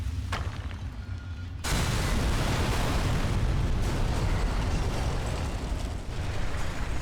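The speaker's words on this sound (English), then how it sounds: "This is a rocket launcher." A rocket launcher explodes in Resident Evil: Umbrella Chronicles. A brief thump is followed by a sudden loud, sustained roaring blast that rumbles on steadily for several seconds, with no one talking over it.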